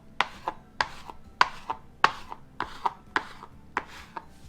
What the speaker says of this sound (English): once I get it rolled out like that, I just cut it with this little